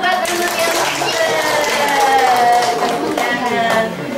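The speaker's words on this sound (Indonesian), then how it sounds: "Tepuk tangan dong buat teman-teman yang" Schoolchildren in a first-grade classroom clap together, the claps steady and close under loud, overlapping young voices calling out throughout.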